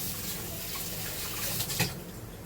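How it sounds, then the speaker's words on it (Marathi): Water pours steadily into a clay pot of mutton in a continuous splashing rush, close by, with a brief louder splash near the end and no voices. "त्याच्यात आपल्याला पाणी टाकायचं."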